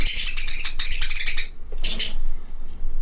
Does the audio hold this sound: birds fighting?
yes